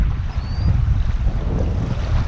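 Wind blows over a lake during a fishing outing, a steady low rumble buffeting the microphone, loud and continuous with no talk.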